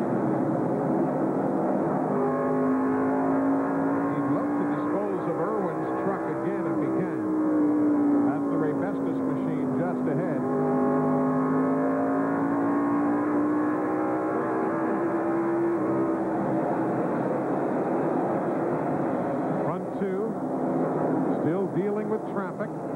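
Stock cars at speed around a speedway during a 1997 race, a steady roaring engine drone with a rising and falling pitch as cars pass, under continuous commentary.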